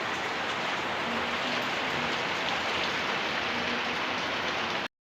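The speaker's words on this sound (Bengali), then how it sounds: "দেখো বৃষ্টি কী করে পড়ছে" Rain pours down steadily, a loud, even wash of drops striking surfaces nearby with no pauses and no voices, then cuts off abruptly.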